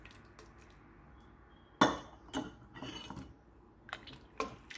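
Pickled carrots and vegetables such as onions and jalapenos being packed into glass jars, with sharp clinks and knocks of utensils against glass and dishes, scattered irregular hits over quiet kitchen background.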